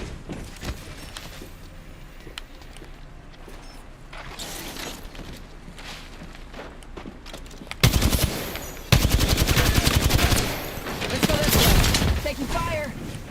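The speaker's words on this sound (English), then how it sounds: "now you come in and shoot him in the face after you've just brutalized him" Gunfire in the video game Helldivers 2, heavy automatic bursts and loud shots erupting in the second half, preceded by quieter game ambience under talk.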